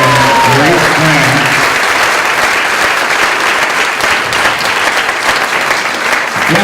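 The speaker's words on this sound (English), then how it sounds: "we want a round of applause for our wonderful and great friend" Loud, sustained applause from a crowd at a Bellingham International Day of Peace gathering, dense clapping throughout, with a voice briefly audible at the start.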